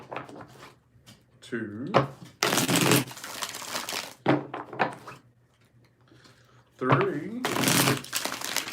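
Tarot cards are shuffled by hand in two loud, papery bursts of riffling, each lasting a couple of seconds, with a voice counting aloud between them.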